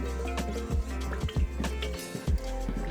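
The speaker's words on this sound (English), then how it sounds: "And I'll fill this up again with some fresh water." Fresh water filling a dish container inside a converted camper van, steady liquid trickle with a few soft drips and squishy splashes, close and fairly quiet.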